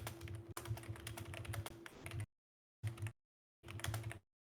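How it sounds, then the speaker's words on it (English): Computer keyboard typing in quick bursts of key clicks, steady clatter for about two seconds, then two shorter bursts separated by silence, fairly close and moderately loud with no talking. "Sorry, you can hear the typing."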